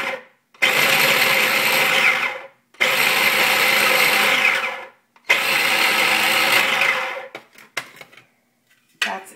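A small blender pulsing apple, almonds, currants and oatmeal: three loud whirring bursts of about two seconds each, separated by brief silences, followed by a few short rattles and clicks.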